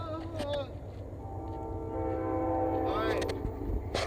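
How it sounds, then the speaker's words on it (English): A train approaches near a riverbed with a sustained, fairly faint horn blast and rising rumble, while people talk nearby. "I think the train's coming."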